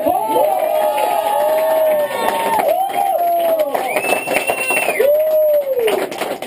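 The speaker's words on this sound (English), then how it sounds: "The hand clap really should be for Carl for helping us." An audience at a band's Q&A session cheers and claps, with loud whoops and shouted calls rising over a steady crowd roar for several seconds.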